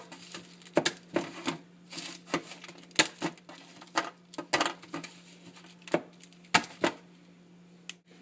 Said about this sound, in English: if you want it to be true bark, break it into pieces.